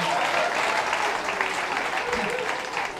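Dense audience applause fills a stand-up comedy show, a steady loud wash of clapping from a crowd throughout with no gaps.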